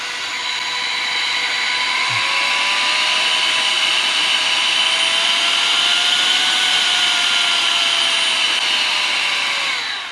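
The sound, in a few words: wireless compressed air duster blowing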